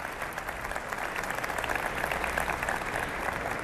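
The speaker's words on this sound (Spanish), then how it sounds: "un aplauso fuerte también para ella, por favor." Steady applause from an audience at a formal public event with a president, a continuous even clatter of clapping throughout without voices.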